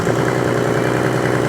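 A hot OM606 diesel engine runs close by with a dense, steady mechanical rumble and vibration, rising slightly as it revs, with no voices.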